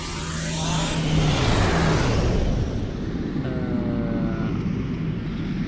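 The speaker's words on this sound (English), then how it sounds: "Quantum slipstream drive." A quantum slipstream drive engages in the Star Trek Online game, a loud whooshing engine swell that builds, peaks, then settles into a sustained rumble with a faint rising whine.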